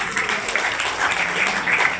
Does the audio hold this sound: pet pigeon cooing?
no